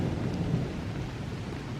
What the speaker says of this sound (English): And there's another storm coming.